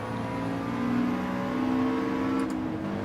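A Subaru Impreza's engine drones steadily in a racing video game, with a sustained hum that swells slightly as it revs. Faint higher tones sit above it, and there is no talk.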